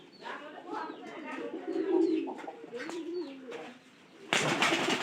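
Pet pigeons coo nearby, low warbling calls that rise and fall almost continuously, ending in a sudden burst of broadband noise.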